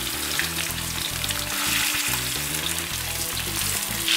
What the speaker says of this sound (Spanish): lo pongo a sellar